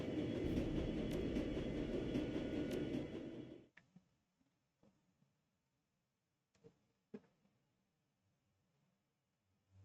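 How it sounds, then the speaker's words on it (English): Subway train ride in the video game Shadowrun Dragonfall: a loud, dense rumble of a moving underground train that cuts off abruptly, followed by quiet with a few sharp clanks and knocks. "It is a short train ride to Gessenbrunnen. You exit the subway car"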